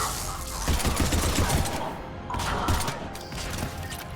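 Dense bursts of automatic gunfire in the Mass Effect 3 video game, loud and close, rattling continuously with brief gaps and mechanical clatter mixed in.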